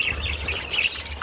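Pet parakeets chirping in short, bright, repeated tweets, close by and moderately loud over a low background hum, with no talk.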